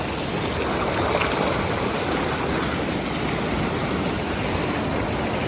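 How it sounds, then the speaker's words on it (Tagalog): Strong rushing floodwater surging across a road, too deep and forceful for a motorbike to cross, a dense, loud, unbroken roar of turbulent water with wind buffeting the microphone. "Mukhang matatangay na ako ng baha."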